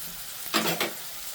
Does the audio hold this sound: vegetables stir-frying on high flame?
yes